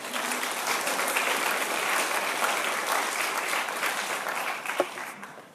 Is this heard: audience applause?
yes